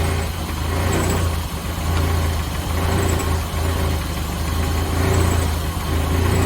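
A VW Cabriolet engine idles in a continuous, even, low rumble with a slight mechanical vibration, close by and steady throughout without speech.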